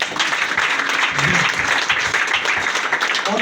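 A congregation applauds to acclaim Jesus at a prayer meeting, with steady, dense clapping that fills the whole moment and stays loud and close throughout.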